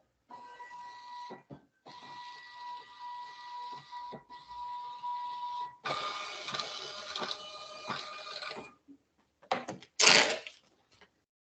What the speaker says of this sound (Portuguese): Então, mesma coisa, pressiono o cancel, ligo a impressora.